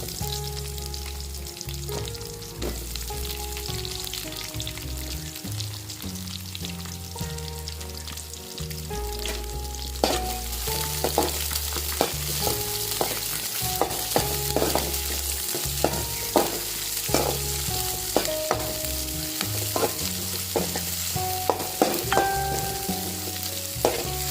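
Curry leaves and chopped onion frying in a pan for tomato sambar, a steady loud sizzle with stirring clatter and pops that grows busier partway through, with music playing underneath and no voices.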